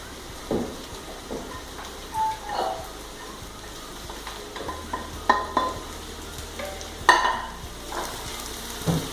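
Prawn biryani masala frying in sunflower oil, a soft steady sizzle with scattered stirring scrapes and clinks of a utensil against the pan, a few sharper knocks near the end.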